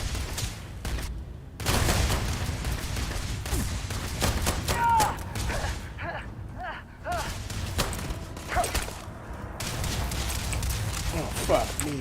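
Gunfire in Starfield comes in clustered bursts of sharp shots amid loud combat noise, with pauses between volleys and game voices and effects mixed throughout.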